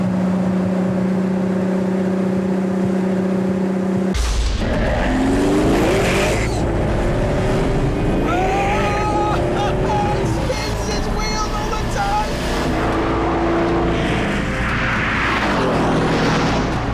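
A 730-horsepower AMG car engine in the Assetto Corsa video game idles with a steady drone, then roars loudly as it revs and accelerates, the pitch climbing and shifting through gears.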